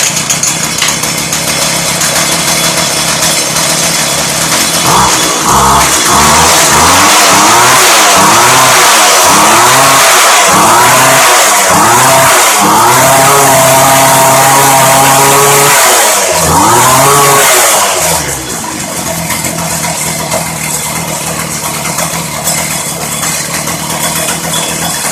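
A Craftsman Bushwacker gas hedge clipper engine runs loud and close, its small motor revving up and down in repeated surges before settling back to a rough steady drone.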